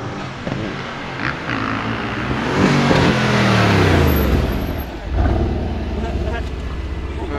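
A Lamborghini Urus and a Mercedes-AMG GLC63S rev hard practicing launch control, rising in pitch, then dropping and surging again, loud and close, with voices faintly underneath.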